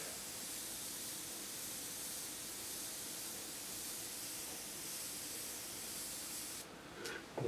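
Airbrush spraying Indian ink onto synthetic paper, a steady broad hiss held close and constant for several seconds before cutting off, followed by a brief small click.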